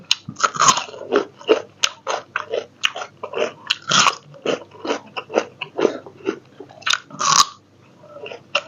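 Crispy wakame seaweed snack dipped in suki sauce is bitten and chewed up close, with steady rhythmic crunching and loud crackly bites throughout.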